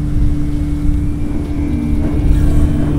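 A car engine with a fault drones steadily and loudly in a close, continuous hum with a faint tonal whine.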